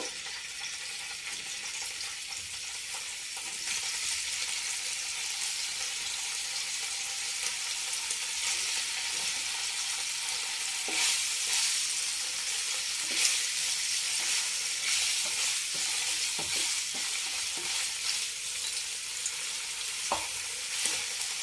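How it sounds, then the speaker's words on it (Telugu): Paneer fries in hot oil with a steady soft sizzle, the crackle holding evenly and close with occasional stirring clicks and no talk. "పన్నీర్ వేయించుకుందాం అండి ఆయిల్లో."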